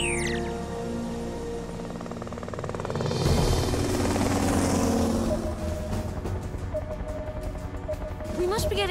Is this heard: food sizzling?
no